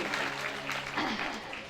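An audience clapping at a Bhagavat Katha gathering, a dense, steady wash of applause from many hands throughout, with a voice speaking over it.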